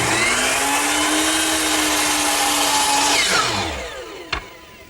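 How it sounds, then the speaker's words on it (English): Power miter box set at 45 degrees cutting oak countertop banding: a loud, steady motor whine with the blade running through the wood, then a spin-down over the last second ending in a short knock. "the oak banding that goes around the countertop is mitered at the corners, and that's best done here at my power miter box,"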